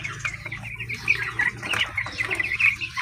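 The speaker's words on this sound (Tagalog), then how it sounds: "mga broiler chicks na pinalalaki" Young broiler chicks peep in a steady, busy chorus, close by and fairly loud, with faint wing flutters and rustling among the small flock of ten.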